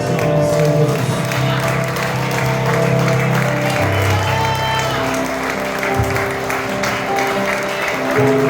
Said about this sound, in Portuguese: As palmas que louvem a Deus, Senhor Jesus.